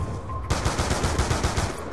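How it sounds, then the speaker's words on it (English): Four-round burst gunfire in the Black Ops 2 video game: after a quiet start, a rapid string of sharp, loud shots rattles off in quick succession, with no talk. "with the four round burst, you get good accuracy and plenty of punch"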